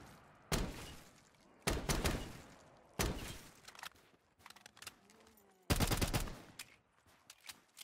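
Gunfire from Black Ops 3 custom Zombies on a solo map comes in loud, dense bursts, four separate volleys of rapid shots with short gaps between them and faint game sounds in the pauses.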